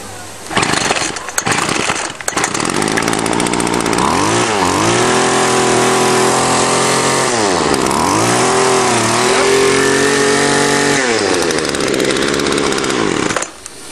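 A small two-stroke weedeater string trimmer engine starting up and running after carburetor cleaning, a few rough pulls and pops, then a buzzing idle that revs up and down several times, close and loud.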